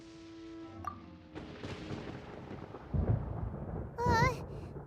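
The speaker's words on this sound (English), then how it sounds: "Paimon hears thunder!" Thunder in a video game, a low rumbling roll that builds and peaks twice, with a character speaking over it and a bright warbling game tone near the end.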